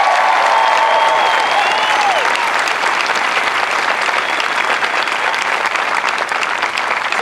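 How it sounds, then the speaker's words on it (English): Loud, sustained crowd applause at an Air Force basic military training graduation parade, dense and continuous, with a faint whistle or cheer early on. "Can I get a round of applause?"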